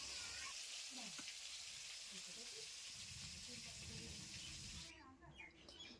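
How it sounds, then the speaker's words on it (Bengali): Fish frying in a pan in a home kitchen, a steady broadband sizzle and hiss that runs close and constant before easing off near the end, with faint background sounds underneath. "মাছ ভাজা হচ্ছে"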